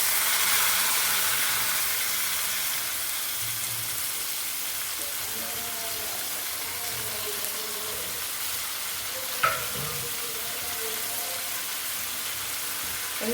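Lemon juice poured into a hot frying pan of sautéed lemon rice base, giving a steady, close sizzle and hiss that fades slightly, with one brief clink partway through.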